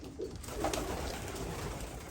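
Filo pigeons coo inside a coop, soft low calls rising from a steady background rustle, close and continuous.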